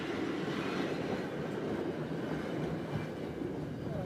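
The interior of a moving Japanese bullet train gives a steady, even rumble and rushing hum, constant and fairly quiet with no voices.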